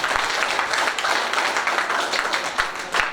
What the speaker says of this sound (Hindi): महिला शक्ति के लिए एक बार जोरदार ताली हो जाती है लेडीज की